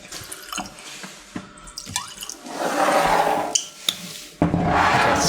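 Macallan 12 triple cask whisky is poured into a glass, with several short bursts of trickling, splashing liquid between quieter pauses and clinks, close and fairly loud, with no talking.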